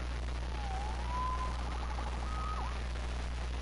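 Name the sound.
police siren in Marvel's Spider-Man video game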